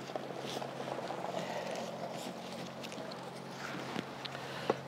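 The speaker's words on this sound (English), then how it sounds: "It is a ride mower." A ride-on lawn mower engine drones steadily nearby in a spring cottage garden, a low constant mechanical hum with light outdoor noise and a few soft knocks, no talking over it.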